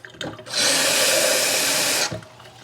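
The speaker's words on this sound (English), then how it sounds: "I'm going to put some fresh water in this jar" Fresh water poured into a jar, a bright continuous splashing stream lasting under two seconds that starts and stops abruptly, with no talking.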